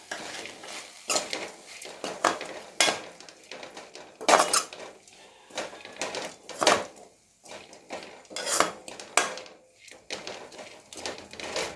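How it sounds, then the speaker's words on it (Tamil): Grated coconut stirred and sautéed in a pan for drumstick leaf poriyal, with repeated clinks and scrapes of a metal spoon against the pan in an uneven rhythm, close and fairly loud, and no talking. "இப்போது நல்லா ஒரு 3 மினிட்ஸ் 2 மினிட்ஸ் தேங்காய் போட்டு நல்லா வதக்கியாச்சு"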